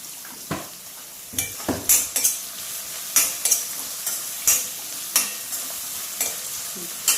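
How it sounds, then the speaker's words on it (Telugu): Egg and drumstick curry fries in a pan with a steady soft sizzle, broken by repeated sharp scrapes and clinks of a spoon stirring against the metal, close up and with no talking. "ఇదేమో ఫ్రై అవుతూ ఉంటుంది"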